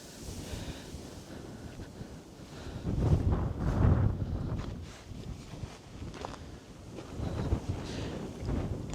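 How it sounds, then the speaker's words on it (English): Wind buffets a microphone in low, rumbling gusts in a near-empty prairie ghost town in Rowley, Alberta, swelling loudest twice in the middle and again near the end, with no voices. "Boy, it's windy."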